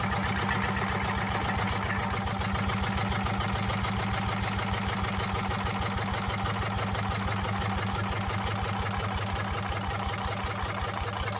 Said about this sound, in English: The Andoria S-60 represents an important stage in the development of Polish diesel engineering during the post-war industrial rebuilding period.